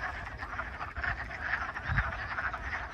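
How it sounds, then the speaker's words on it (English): Frogs croaking to mate, a dense continuous chorus of rasping calls pulsing steadily throughout, fairly loud and close with no talk over it. "Oh, I see a little frog."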